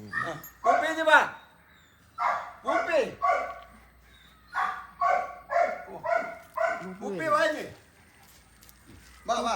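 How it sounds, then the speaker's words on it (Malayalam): A dog barks loudly and repeatedly at close range, in short bursts of two or three sharp barks separated by brief pauses, sometimes rising into yelping tones. "അവള് കിടന്ന് കുരയ്ക്കുന്നോണ്ട് പേടിയുണ്ട്"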